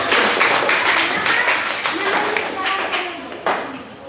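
Audience claps at the close of a classroom presentation in an Indonesian language lesson, a ragged burst of hand claps with some voices mixed in, fading slightly toward the end.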